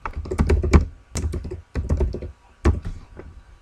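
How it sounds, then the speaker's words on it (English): Close-up typing on a computer keyboard comes in quick bursts of clattering keystrokes separated by short pauses, with no speech. "Might be helpful to actually type something first"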